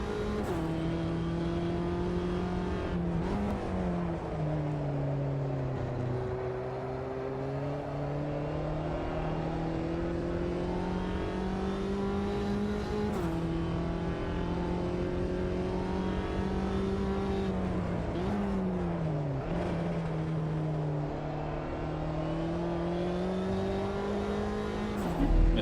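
Race car engine in Automobilista 2 revs loud and steady throughout, pitch rising and dropping with gear changes and braking, with faint tire noise and no talk.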